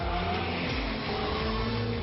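A Ferrari 488 GTB turbocharged supercar engine holds a steady mid-pitched drone with a faint rising rev, continuous and moderately close, with no voices over it.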